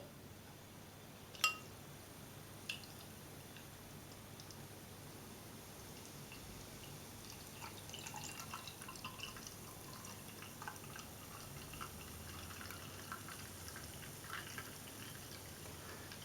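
Homebrewed double IPA beer pours from a bottle into a glass with a faint, steady liquid trickle, a sharp clink of glass near the start and soft fizzing drips building toward the end.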